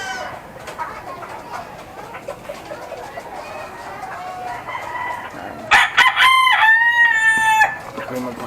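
Chickens in a small rooftop coop cluck and murmur softly, then a rooster lets out a loud, close crow near the end, with a few faint background sounds.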